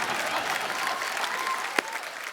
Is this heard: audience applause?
yes